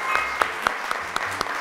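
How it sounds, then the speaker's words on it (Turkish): A small group at a children's game show applauds the winning team after a hoop-throwing contest, a few sharp, evenly spaced claps in a quick rhythm, close and fairly loud. "Alkışlıyoruz."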